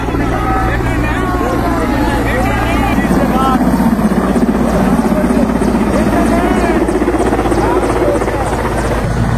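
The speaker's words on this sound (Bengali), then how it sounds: "এইমাত্র মোদিজির হেলিকপ্টার ল্যান্ড করলো" Prime Minister Modi's helicopter landing at Pursurah, Bengal, roars loudly and continuously with a thudding rotor and whining turbine nearby, while voices talk faintly underneath the noise.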